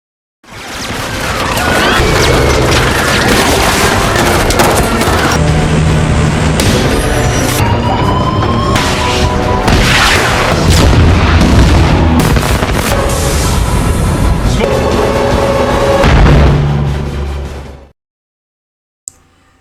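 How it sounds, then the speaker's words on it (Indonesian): Movie battle scene where a gunner blows up an incoming missile, a long, loud barrage of booming explosions, gunfire bursts and rumbling blasts layered with dramatic score, sustained for about seventeen seconds before cutting out. "Penembak bahkan berhasil meledakkan rudal yang mendekat."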